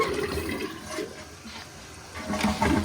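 Water rushes steadily into a toilet tank through a newly installed fill valve, a continuous close hiss and gurgle with no talking, rising slightly in loudness toward the end.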